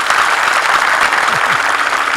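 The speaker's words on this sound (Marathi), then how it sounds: "जरा जरा मन मोकळेपणाने टाळी वाजवा" A crowd applauds at a kirtan during a week-long religious gathering for sugarcane workers, with dense, steady clapping that fills the hall for the whole stretch.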